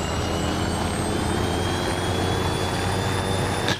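A military helicopter's engine runs up in a milsim video game, a steady loud turbine roar and whine filling the clip without pause.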